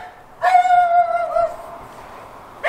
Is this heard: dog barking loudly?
yes